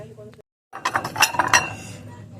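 Gold-trimmed bowls clink and knock against each other in a quick cluster of bright, close ceramic taps, preceded by a brief voice and a short pause.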